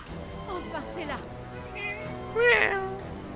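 A cat meows in the Forspoken video game, a few short mewing calls with a louder one near the end, mixed with in-game background sound and speech.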